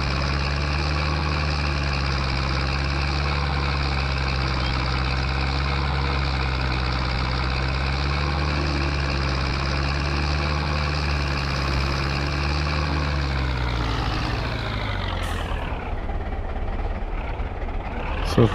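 Tractor engine running steadily while hitched to a baler in the farming game Farming Simulator 22, a loud continuous drone that shifts and drops near the end.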